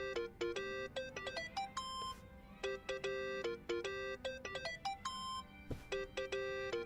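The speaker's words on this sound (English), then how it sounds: "that's your phone" A phone in Yakuza: Like A Dragon plays a melodic electronic ringtone, a quick repeating pattern of bright chiming tones that is clear but fairly quiet, with no voices.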